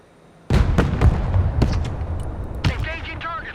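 Artillery firing in the real-time strategy game Broken Arrow: a loud blast opens, followed by a run of rumbling explosions and cracks, with a short whistling tone near the end.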